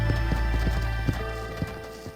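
Steady clip-clop of horse hooves in the Red Dead Redemption video game, a regular trotting rhythm over a constant low hum of game ambience, without a clear whinny.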